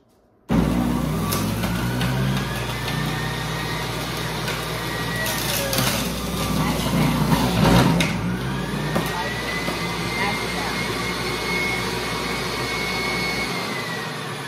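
A juicer motor switches on abruptly at its low setting and runs with a loud, steady whirring drone, close by, continuing unbroken before dropping off near the end.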